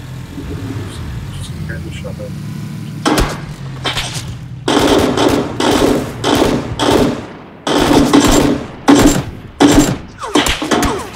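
Gunfire in PUBG (PlayerUnknown's Battlegrounds): after a low engine-like hum, a series of loud sharp shot bursts in quick irregular clusters with brief pauses, close and dominant, with voices talking in between.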